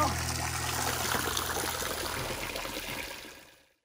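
Waterfall water pouring in a steady broadband rush at close range, fading out at the end.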